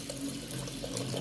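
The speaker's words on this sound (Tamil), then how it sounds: "இப்போ இது மூழ்கிற வரை தண்ணி ஊற்றிக்கலாம்." Water is poured over rinsed moong dal to cover it for soaking, a steady, close pouring and splashing sound with no talk.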